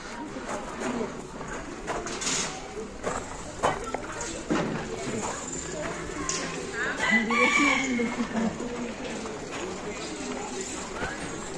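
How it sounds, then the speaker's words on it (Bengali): Birds call and a rooster-like crow rises from a netted bird park in a forest at Pelling, scattered chirps and cries over a soft background while a person talks throughout. "চারিদিকে কিন্তু সুন্দর পাখির আওয়াজ, চারিদিকে প্রচুর পাখি এদিকে রয়েছে এই জঙ্গলটায়"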